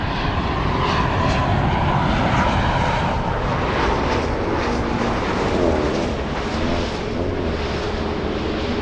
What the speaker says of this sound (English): Look at that Southwest really wanting to take off.